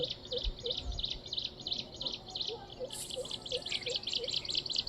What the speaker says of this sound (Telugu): పక్షులు కానీ అవి కానీ ఆ సౌండ్స్కే నేను వీడియో అయితే చేయడం జరిగింది.